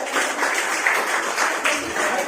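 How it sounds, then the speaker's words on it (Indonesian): A school class claps together for a couple of seconds, a dense indoor patter of many small hands close by, with voices mixed in. "silakan tepuk tangan dulu"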